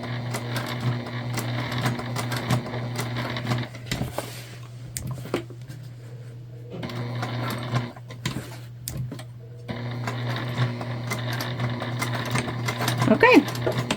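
A sewing machine stitches a Zora shoulder bag in steady whirring bursts, stopping and starting several times, close and fairly loud, with a pause in the middle of the run.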